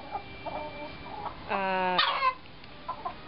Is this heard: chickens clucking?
yes